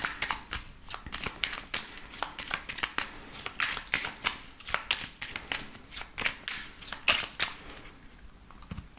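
A deck of oracle cards is shuffled and cut by hand, giving rapid, crisp riffling flutters and slaps in irregular bursts throughout, close and clear with no talking.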